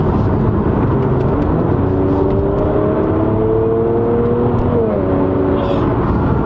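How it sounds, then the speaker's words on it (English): A 2019 Mercedes-AMG C43 facelift coupe with the performance exhaust and nine-speed gearbox, loud and steady throughout, with engine tones rising and shifting as it revs, heard from close by with no talking. "You get that nice crisp sound, there's pops and bangs along the way"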